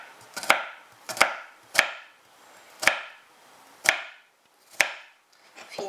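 Garlic cloves are chopped with a knife on a board, six or seven sharp, separate knocks at an irregular, unhurried pace, close and clear with nothing else behind them.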